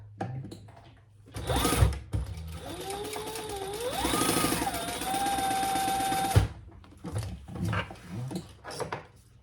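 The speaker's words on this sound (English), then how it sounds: "Now, sew underneath that next card slot." A sewing machine stitches fabric beneath a card slot on a Gemella wallet, its motor whirring loudly and steadily for about four seconds, rising and falling in pitch, with softer handling clatter before and after.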